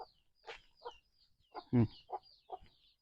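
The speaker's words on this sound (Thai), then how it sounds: "นี่ ไก่น้อยเนาะ" Chickens cluck in short, separate bursts with a louder squawk in the middle, close by and with no talking.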